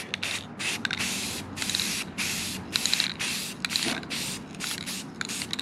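Matte black all-in-one spray paint hissing from an aerosol can while blacking out a car grille, in repeated close bursts separated by short pauses, with no talk.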